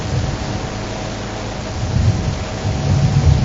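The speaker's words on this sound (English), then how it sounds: "Just a little bit of wind that's making something reverberate." Steady wind rushing and buffeting a microphone, with low rumbling gusts swelling toward the end; no voices.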